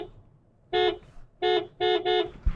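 Horn of a Tata Punch EV electric car, four short loud honks sounding in an uneven rhythm close by, with no talk over them.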